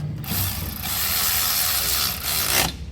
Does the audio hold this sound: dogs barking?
no